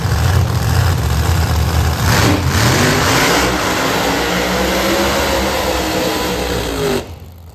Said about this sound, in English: Oh, beautiful burnout. Those are 69 Camaros.